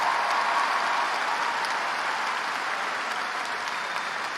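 Graduation audience in a high school ceremony hall applauding staff, a broad, dense wash of clapping that stays loud and even throughout, close and unbroken with no voices on top.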